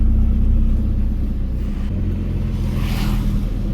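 A Peugeot 206 with a 200HP turbo engine drives along, and a loud, steady low engine rumble with road noise fills the cabin without a break, with no one talking.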